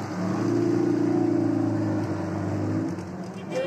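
Vintage car engine idling and revving steadily nearby, with a low droning tone that holds, then eases off near the end.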